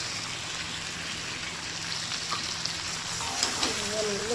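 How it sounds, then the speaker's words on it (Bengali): Chicken curry masala with tomato cooking in a pan, a continuous soft sizzle with faint stirring scrapes toward the end, close but quiet, with a low steady hum beneath. "ভালো করে কিন্তু কষে নেবো।"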